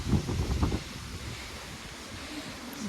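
Strong storm wind gusts outdoors among apricot trees, buffeting the microphone with a heavy low rumble that eases slightly into a steady roar.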